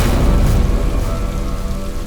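Heavy rain pouring steadily outside a cave, a dense loud hiss with a deep low rumble underneath and no talking.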